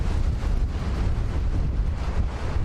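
Wind gusts straight into the microphone on a safari game drive, a loud, steady low rumbling buffet throughout with no other sounds standing out.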